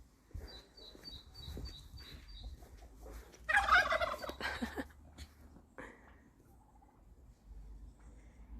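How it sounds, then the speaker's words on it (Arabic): A turkey at an open-air museum park, living among hens, lets out a loud burst of gobbling partway through, with faint bird chirps and outdoor ambience around it. "هذا هو ديك الرومي هنا، ويعيش بسلام أيضا مع دجاجات أخرى"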